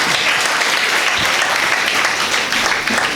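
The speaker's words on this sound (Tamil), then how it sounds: "அவங்களுக்கு மிகப்பெரிய கைத்தட்டலை இந்த அரங்கம் பதிவு செய்யட்டும்." A hall audience gives loud, dense, sustained applause through the whole moment with no break.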